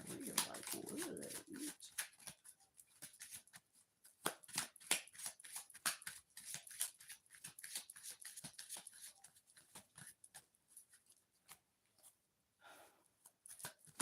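Tarot cards shuffled by hand, a run of quick papery riffles and flicks, fairly close and moderately loud, with short bursts trailing off into sparser taps and no voice over it.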